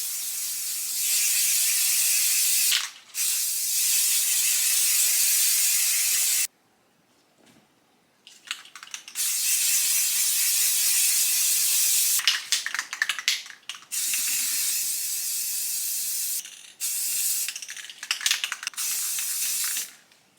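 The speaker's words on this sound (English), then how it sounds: "So I'm just going to spray paint it" Rust-Oleum flat white spray paint hisses from an aerosol can onto a tumbler in several sustained bursts, close and loud, with short pauses between passes and one longer gap.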